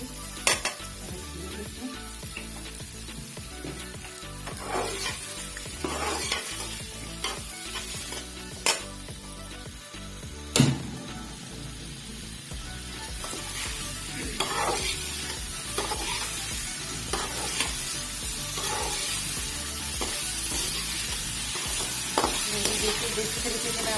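Cut potatoes frying for Nepali aloo bhujia give a steady, close sizzle. A utensil stirring the pan adds recurring scrapes and sharp metallic clinks throughout, and a brief voice is heard.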